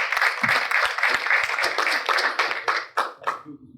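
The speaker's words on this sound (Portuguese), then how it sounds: "Uma salva de palmas, ao senhor Leonardo Barreto." Audience applause at an award ceremony honoring a former president, a burst of clapping with sharp claps standing out that thins and tapers off over a few seconds.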